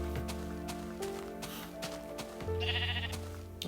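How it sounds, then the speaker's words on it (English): Sheep bleating in the blocky sandbox game BetaCraft, several repeated calls close by over a steady game background, with no talking. "I've got some sheep finally."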